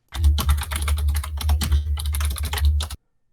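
Rapid, steady typing on a computer keyboard, a dense run of close clicking keystrokes lasting about three seconds before stopping abruptly into silence.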